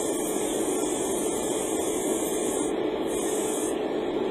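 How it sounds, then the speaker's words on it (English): Light dusting of spray paint onto a Gunpla model part from a distance, a steady close hiss of aerosol spray holding evenly throughout, with a short pause near the end before it resumes. "always spray from a distance and do a light dusting first"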